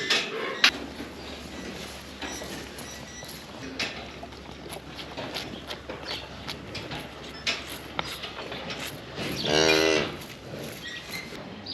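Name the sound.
calf mooing on a farm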